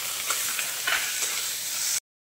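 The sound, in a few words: chopped shrimp frying and being stirred in a pan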